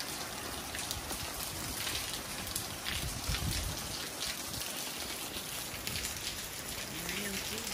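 Steady rain pattering and dripping on a rainy day, a dense continuous wash of droplets on surfaces at moderate level, with a faint voice murmuring briefly near the end.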